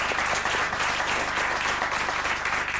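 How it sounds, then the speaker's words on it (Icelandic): A studio audience at an Icelandic TV quiz show applauds steadily and loudly, dense clapping filling the short stretch without talk. "Gefum hún gott klapp."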